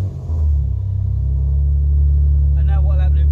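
A car fitted with a fuel pump kill switch cranks and fires into a deep, steady idle rumble that holds loud and close, with a voice coming in briefly near the end.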